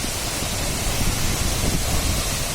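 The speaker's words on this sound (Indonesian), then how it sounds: "Kita rasakan deburan air terjunnya dan hamparan air yang terbang terbawa angin ya" Roar of Gitgit waterfall in Bali, the island's tallest: a dense, steady wash of crashing water close by, unbroken and loud, with wind-blown spray and no voices.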